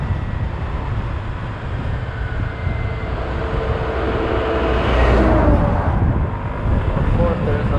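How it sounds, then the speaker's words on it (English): Dense road traffic surrounds a 2021 Sym Symphony ST 200 scooter on a congested capital-city road on a Sunday evening, a constant loud roar of engines and wind that swells briefly as a vehicle passes close. "Of course, there's a lot of traffic,"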